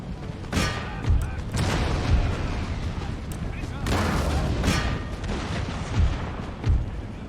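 Musket volleys in an Empire: Total War battle, several sharp crackling bursts and booming reports at irregular intervals over a constant rumbling battlefield din, some shots near and loud, others distant.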